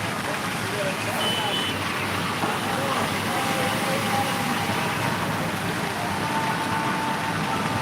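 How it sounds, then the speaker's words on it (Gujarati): Steady, dense rain hiss in Botad fills the whole stretch, constant and fairly loud, with a faint background rumble and no clear voices. "સાડા દસ નો ચાલુ છે વરસાદ"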